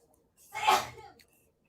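A single sharp human sneeze, close and fairly loud, with a short breath before it and brief quiet after.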